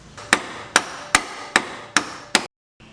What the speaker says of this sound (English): I'll pry that back and beat that back a little bit with a hammer